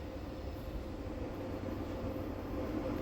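An intermodal freight train rolls past close by with a steady, loud rumble and rattle of wagons that holds even and unbroken, swelling slightly toward the end.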